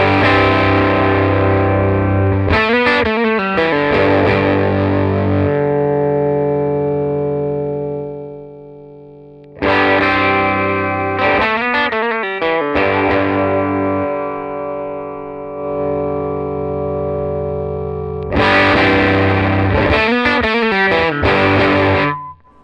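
An electric guitar through a Fender '57 Custom Deluxe tweed amp plays sustained, gritty overdriven chords in three phrases, loud and close with strummed attacks and ringing decays between them.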